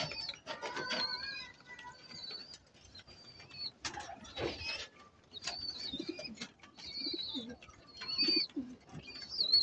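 Pigeons kept in a loft coo and call at close range in repeated soft bursts, with chirps and a little wing flapping in between.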